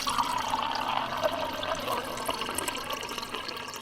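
Drinking water being poured, a continuous close splashing and gurgling stream that holds steady for a few seconds with no voices.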